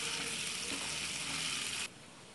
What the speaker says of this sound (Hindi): इसे हल्का सा हम फ्राई कर लेंगे जब तक खुशबू आ जाए तब तक।